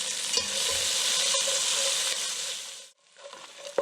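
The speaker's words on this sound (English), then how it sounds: "We're just going to saute the onions until they're soft." Onions sautéing in a pan for Senegalese thieboudienne, a loud steady sizzle that fades away near the end before a small burst of sizzling returns.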